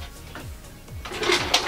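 A kitchen drawer in a 2014 Golf Savannah 402 caravan slides open and shut with a few quick rolling scrapes and a soft knock, close by, with no talking.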